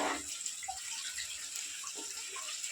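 Water is poured into a cooking pot, giving a soft, continuous splashing rush with faint bubbling, quiet and close, with no talking.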